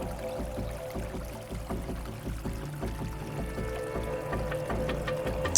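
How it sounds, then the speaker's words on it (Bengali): Oars dip and pull through water in a steady, repeating stroke rhythm as a small boat is rowed hurriedly through the Sundarbans in a cartoon, close and moderately loud over a low watery wash. "জোরে বৈঠা মার।"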